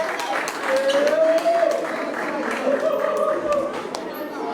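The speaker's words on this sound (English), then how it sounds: "We gotta give a round of applause for Sir Charles, man." A crowd at an outdoor community backpack giveaway for students claps in a steady, sustained round, with someone talking loudly over the applause throughout.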